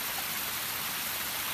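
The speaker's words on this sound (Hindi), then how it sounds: "जल धारा, जल धारा," A jungle stream pours over a small waterfall near the Indo-Nepal border, making a dense, steady, hissing wash of water with no pauses and no voices.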